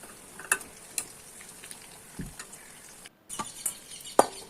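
Snacks fry in oil over a medium flame, a low steady sizzle running underneath with scattered sharp pops and ticks, plus a short break partway through.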